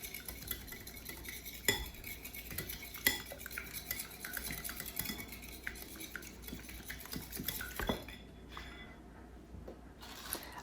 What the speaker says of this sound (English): we scramble 1 large egg with the 1 tablespoon of cornstarch with the sesame seed oil